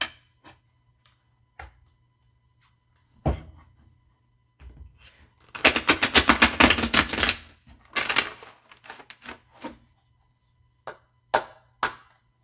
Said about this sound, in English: I'm just going to give these a shuffle.